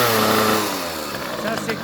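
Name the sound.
Rieju MRT 50 moped engine revving with 30mm carburettor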